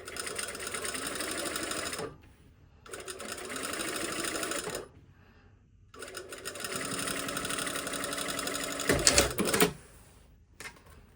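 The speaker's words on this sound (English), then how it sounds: "So remember, I'm sewing the seam allowance to the pocket bag." Sewing machine running in bursts as it stitches a seam allowance onto a pocket bag for a slash pocket, with three long steady stitching runs separated by pauses and a brief louder clatter near the end.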